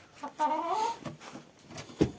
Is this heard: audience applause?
no